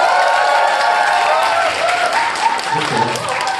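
Applause with some cheering from a seminar audience at a business presentation, a steady loud wash of clapping with no gaps across the whole stretch.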